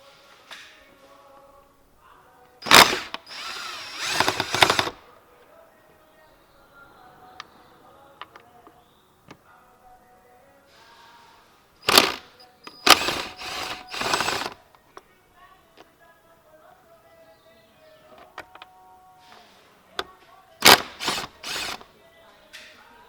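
A power tool with an 8mm socket loosens bolts on the air filter housing of a 2018 Honda CR-V. It runs in three loud, separate whirring bursts, with quieter clicks and handling noise in the gaps and no talking.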